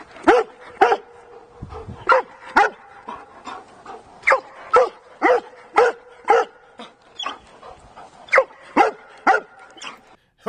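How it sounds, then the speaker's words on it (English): A dog barks obsessively after a ball is thrown, sharp loud barks repeating in a steady rhythm about once per second, close up, with panting between them. "I could show you another 2 minutes of barking if you really wanted to listen to barking"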